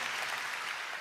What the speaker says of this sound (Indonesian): kita berikan tepuk tangan yang meriah dulu untuk Bapak Uskup kita